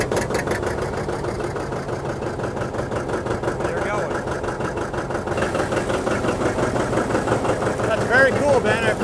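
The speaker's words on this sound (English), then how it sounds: "the gasoline engine is turning the diesel engine." A diesel tractor engine is cranked over by its small gasoline starting engine, a continuous, loud mechanical chugging with a steady rapid beat that rises slightly in intensity toward the end, heard close up outdoors.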